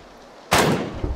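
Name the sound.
rifle gunshots in PlayerUnknown's Battlegrounds video game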